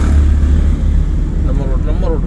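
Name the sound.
car engine while driving, shifting into third gear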